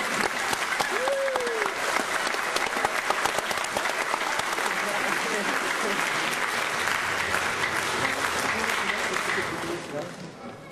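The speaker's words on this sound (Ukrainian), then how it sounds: "Ваші аплодисменти!" A crowd applauds at a 25th anniversary celebration of the Boyovyi Hopak martial art, honoring the president of its international federation. The dense, sustained clapping follows a brief voice and fades out near the end.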